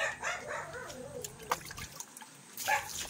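Water splashes and trickles steadily from a pump, with faint background noises and a few brief sharp sounds in the mix.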